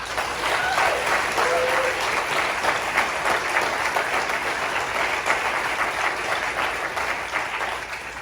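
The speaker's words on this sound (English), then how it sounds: "They applauded the Majestic Theater way more than us." Theater audience at the Majestic Theater applauding steadily and loudly, a dense wash of clapping that holds for about eight seconds without a break.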